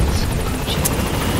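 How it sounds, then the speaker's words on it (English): A helicopter in the video game Metal Gear Solid 5: The Phantom Pain gives a steady, close whirring drone that holds evenly throughout, with no talk over it. "I need the chopper to come back"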